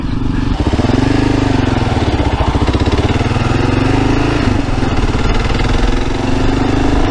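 A 2022 Kawasaki KLR650 single-cylinder engine runs loud and close with a rapid, steady thumping pulse that rises and falls slightly in pitch as the throttle changes.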